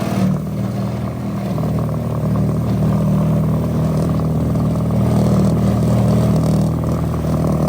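Toro electric snowblower clearing a foot of snow, holding a steady loud droning whir with a low rumbling hum that runs unbroken and close throughout.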